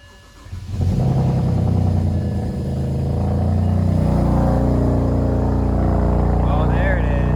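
A BMW E92 335i fires up for its first start after a carbon clean: a quiet lead-in, then a sudden crank-and-catch at about one second, settling into a loud, steady idle with a brief rev, and a voice talks over it.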